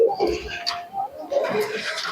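Madras pigeons coo in soft, throaty bursts at a pigeon sale, close by, with a couple of separate calls and a faint background murmur.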